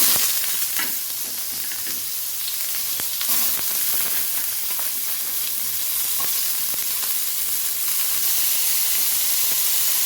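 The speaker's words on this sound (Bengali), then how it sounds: "পেঁয়াজটাকে আমি ভালো করে একটু লাল লাল করে ভাজা ভাজা করব" Onions fry in a pan with whole garam masala for a Bengali banana-flower and prawn ghonto, giving a steady close sizzle and hiss with occasional scrapes of stirring throughout.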